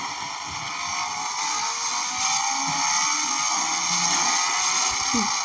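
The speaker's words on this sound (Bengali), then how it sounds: "দেখেছো গাইস, বাইকটার আওয়াজ অনেক অদ্ভুত" An engine runs steadily on a BMW motorbike, with a droning tone that rises slowly in pitch as it revs. A few knocks and rattles sound over it.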